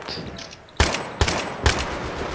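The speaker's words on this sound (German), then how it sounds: "Viper 6-6 unter schwerem Beschuss!" Heavy gunfire in the video game Battlefield 3 cracks out as three sharp, loud bursts roughly half a second apart over a low background rumble, with no voices present.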